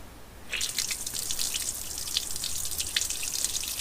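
Grey wastewater drains out of an underslung tank beneath an Iveco Daily campervan, starting abruptly as a steady hissing, splashing flow onto a driveway with small drips and spatters throughout, close by.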